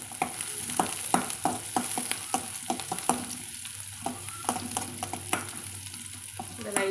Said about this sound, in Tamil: இதை லைட்டாக ஒரு 2 நிமிஷம் வதங்கட்டுங்க